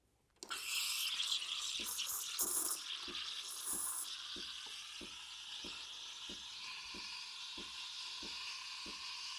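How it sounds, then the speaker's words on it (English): A CASABREWS espresso machine's steam wand starts with a sharp burst, then settles into a steady hiss and gurgle as it steams milk in a pitcher, with faint regular ticks underneath. "I think it's good time to start steaming the milk."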